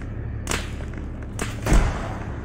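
In the Arma 3 video game, a thrown frag grenade bursts as a dull, muffled low thump. It is preceded by a couple of soft thuds and sounds fairly distant against a quiet background.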